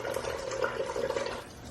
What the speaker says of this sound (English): You want to put some water on that.